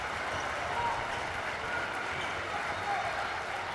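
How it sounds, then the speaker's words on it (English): A steady, dense roar of a crowd applauding in a standing ovation fills a high school basketball tournament final gym, loud and continuous throughout, with a voice talking faintly underneath. "And out, receiving a standing ovation."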